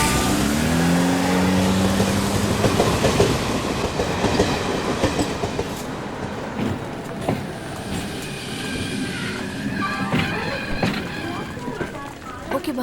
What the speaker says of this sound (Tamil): எது ட்ரெயின் வந்துச்சு.